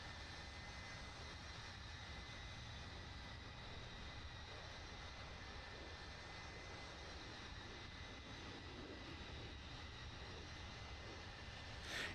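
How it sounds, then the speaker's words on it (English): A C-17 Globemaster II in a flight simulator with afterburners engaged gives off a steady, broadband jet engine roar that holds at a constant level throughout, with no talk over it. "You threw the afterburners on."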